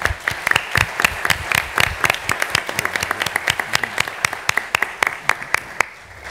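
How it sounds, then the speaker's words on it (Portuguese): A conference audience applauds the speakers and the panel with dense, lively clapping that holds steady and then thins out at the very end. "Queria pedir uma salva de palmas para os palestrantes e para a mesa,"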